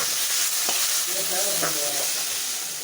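Steady hiss of tomatoes sizzling in a hot pan, with a couple of brief stirring scrapes.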